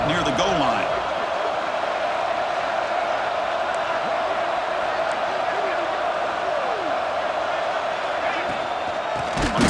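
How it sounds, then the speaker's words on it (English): A stadium crowd roars steadily and loudly throughout a college football game in EA Sports College Football 26, with the home fans building noise as the defense tries to hold near the goal line. "The crowd really making some noise now, trying to help out this defense to get this stop near the goal line."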